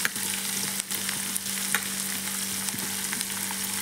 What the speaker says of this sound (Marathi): कांदा आपल्याला आता ढवळून घेऊया आणि चांगला लालबुंद होईपर्यंत परतवून घ्यायचा आहे